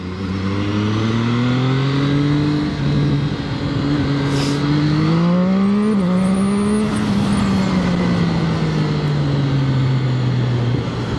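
A Zhang Xue 820RR motorcycle accelerating hard, its loud engine note climbing steadily in pitch through the gears with a brief dip mid-run, close and continuous throughout.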